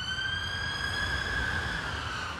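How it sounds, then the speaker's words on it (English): An emergency vehicle siren wails steadily, holding a high sustained tone over distant traffic rumble as it passes near an allotment, fairly faint throughout. "just letting the siren pass"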